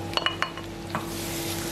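Onions and tomatoes saute in a pan in a Turkish kitchen in Amasya: a few quick utensil clinks against the pan over a soft, steady sizzle, close and brief, with no speech.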